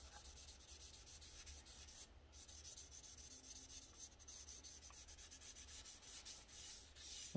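Steady hand sanding rasps back and forth across a Pontiac Fiero car body panel, a soft, even scratching rhythm with no voices, fairly quiet and close.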